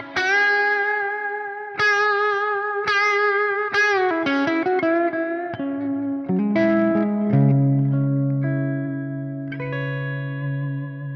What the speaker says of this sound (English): This one's with some distortion, it would sound better, but you don't want the note sounding like it loses its pitch.